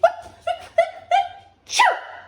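A series of short, high vocal bursts building up, then one loud sneeze, close and clear.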